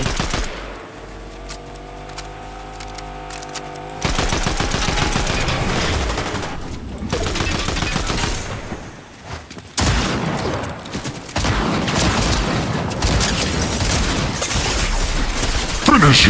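Rapid automatic gunfire and bursts of shots in the Fortnite video game, loud and dense across the whole stretch, with a player talking excitedly over the shooting.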